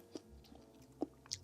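Crispy, low-salt Korean gim seaweed is chewed close to the mic in a few quiet, sharp crunches spaced irregularly, with near-silence between the bites.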